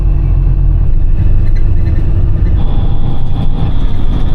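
Loud, constant low engine rumble and road roar fill the inside of a moving bus, with a faint whine rising partway through and no voices.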